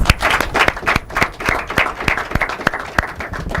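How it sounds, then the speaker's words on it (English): An audience applauds loudly at an inter-collegiate debate competition, with sharp individual claps standing out over a dense, steady wash of clapping hands. "they're very deserving of another warm round of applause."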